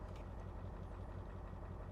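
A 2020 Ford F-250 truck engine running rough with a dead cylinder, giving a loud, close, steady low rumble with an uneven pulsing beat throughout.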